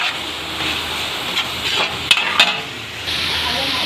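Bitter gourd and ground pork frying in a pan with fish sauce, stirred with a utensil: a steady close sizzle with a few scraping clinks against the pan.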